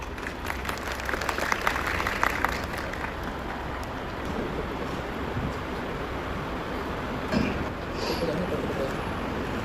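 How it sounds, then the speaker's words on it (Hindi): An audience claps at a seminar in Agra, a wide wash of applause from a crowd that holds steady for about ten seconds with a brief swell near the end. "तो एक बार सभी स्वागत करेंगे इनका एक बार तालियों के साथ"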